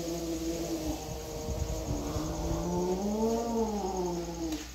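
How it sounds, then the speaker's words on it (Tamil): A kitten and a large Russian cat square off indoors, trading long, wavering yowls and growls that rise and fall in pitch, close and fairly loud, with no talking. "ஒரு குட்டி பூனை இருக்கா, ரெண்டு பேரும் நல்லா சண்டை போடுறதுக்கு தயாராக நிற்கிறாங்க"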